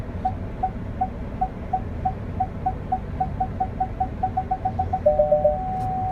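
Reversing parking warning from a Ford Everest Titanium+ during automatic park assist: a series of single beeps that quicken steadily, then merge into a faster cluster near the end, over a low cabin hum.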